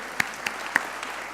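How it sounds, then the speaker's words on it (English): Audience at the FameLab Australia 2018 national final, a science communication competition, gives a faint, sparse round of applause: a few scattered, distinct claps spaced evenly across the moment. "I think a round of applause is in due for Alan."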